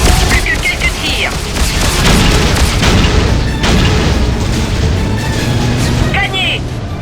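Freelancer space combat rumbles with heavy booming explosions and bursts of weapon fire, loud and dense throughout, with voices talking over the action.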